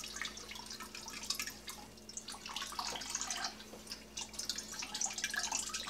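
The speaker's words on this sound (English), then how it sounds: "And I'm just draining this roughly." Liquid drains from a fruit bag during wine racking, a steady close dripping and trickling stream running throughout with no talk.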